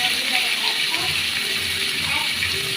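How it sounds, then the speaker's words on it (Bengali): Hot water poured into a village-style egg curry with tomatoes and ginger paste, a steady close gush of liquid that continues evenly throughout without pause. "একটু গরম জল দিয়ে দিলেন"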